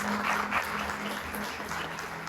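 Church congregation applause swells as a dense, fairly distant wash of clapping hands, sustained and even across the short stretch with a faint hum beneath.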